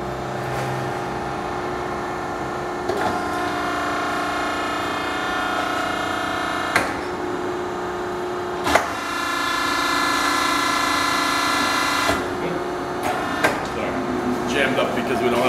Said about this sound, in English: Mandrel forward.